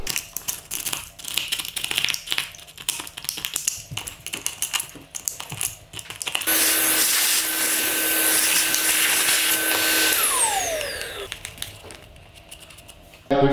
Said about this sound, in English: So we're gonna get all this hoovered all out, get it all nice cleaned out